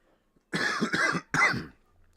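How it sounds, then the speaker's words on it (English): Two quick coughs close to the mic, a short burst followed by a sharper second one after a brief pause, in a quiet room. "I got a little bit of a Same. cough still."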